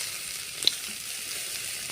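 Chopped green chilli, onion, carrot and beans fry in a pan for veg fried rice, a steady soft sizzle that holds evenly from start to finish.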